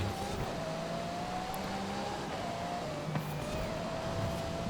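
Car engine in the racing game Forza Horizon, a steady continuous drone with a gently shifting pitch, driving without pause and staying at an even, moderately loud level throughout.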